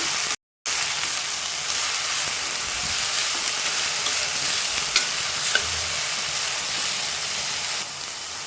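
Food being stirred and fried in a pan over a low flame: a steady broadband sizzle with soft scraping strokes of the spoon, close and continuous, broken by one very brief dropout near the start and no talking.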